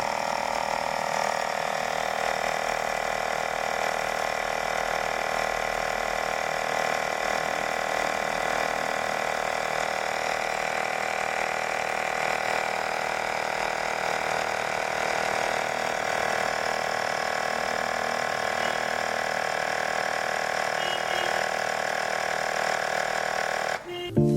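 An electric tire pump runs steadily while inflating a Triumph motorcycle's tubeless tire, giving a continuous mechanical buzzing whir with fine rapid pulsing, close and even throughout, ending with a brief clunk as it stops.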